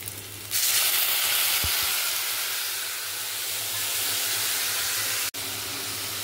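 Chili powder paste mixed with water hits a hot pan with okra and erupts into a loud, steady sizzle, with a brief clatter near the end and no voices.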